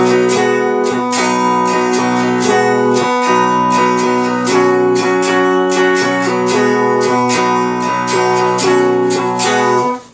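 Cigar box guitar strummed in a steady rhythm through a chord progression, a G-to-D change repeating, loud and close with bright plucked strings ringing over about ten seconds, no voices.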